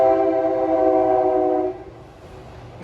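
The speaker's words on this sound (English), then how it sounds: "I didn't expect the train to come by here" A train rolls past on nearby tracks, a loud sustained tonal horn-like hum that holds steady and then drops away into a softer rumble near a parked 2018 Audi A4.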